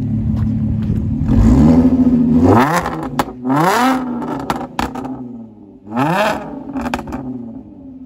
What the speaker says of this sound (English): and then here it is revving